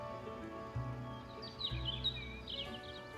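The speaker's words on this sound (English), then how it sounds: "The warbling of birds that were actually there, not some sound coming from a speaker." Birds warbling outdoors in the video game NIKKE: soft, scattered chirps and tweets over a faint steady ambient hum, fairly quiet and unhurried.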